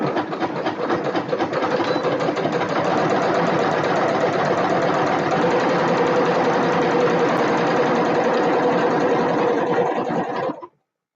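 A sewing machine runs at a steady fast stitching rhythm, loud and close, humming continuously for about ten seconds before stopping abruptly.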